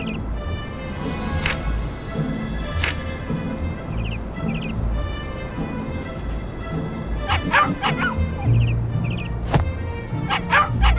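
A dog in the Christmas game Grimm Tales barks and yips repeatedly in sharp, loud bursts, with whimpers between them over soft game music.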